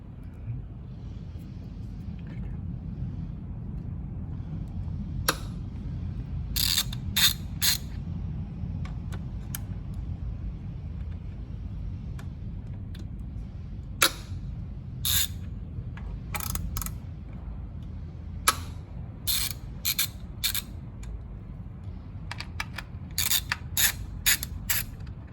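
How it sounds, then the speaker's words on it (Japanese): A ratchet wrench works loose the ignition coil bolts on a Daihatsu Esse kei car, giving several short bursts of sharp clicking spread through the clip over a low steady hum, close to the tool. "ダイレクトイグニッションコイルのボルトを外します。"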